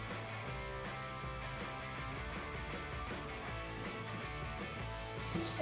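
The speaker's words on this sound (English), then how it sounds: "So we'll add our butter, both the tablespoons of butter." Butter melting in heated oil in a pan for paneer tikka masala gives a steady, even sizzle and hiss that runs unbroken and fairly quiet, with a faint rattle near the end.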